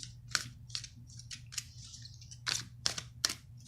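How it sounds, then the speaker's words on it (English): Tarot cards are shuffled by hand, close and quiet: a series of sharp, crisp riffling snaps and slides in irregular bursts over a faint low hum. "Just finishing up your shuffling."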